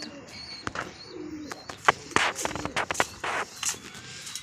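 Domestic pigeons kept on a rooftop in Bangladesh, with soft intermittent cooing and scattered bird chirps over a busy outdoor background, plus occasional rustling and footsteps nearby.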